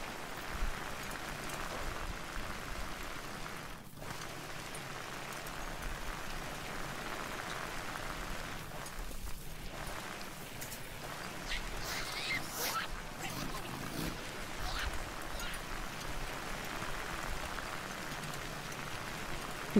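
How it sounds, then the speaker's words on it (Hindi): Steady rain hiss falls throughout a Days Gone game scene, a continuous broadband wash with a few brief louder streaks, heard alone at moderate level. "बारिश गिर रही है लगता है।"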